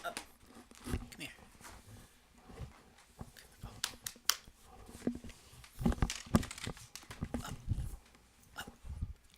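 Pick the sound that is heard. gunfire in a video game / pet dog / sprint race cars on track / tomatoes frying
pet dog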